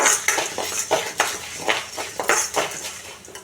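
Ingredients being roasted and stirred in a pan while making chitranna: quick, uneven scraping and clinking of a spoon against the pan repeats in short bursts, close and moderately loud, with no talking.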